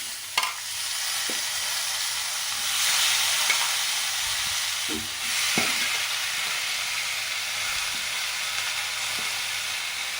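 Lentil dumplings (bori) fry in a pan with a continuous close hiss and sizzle, occasional soft clicks and stirring knocks, swelling briefly midway.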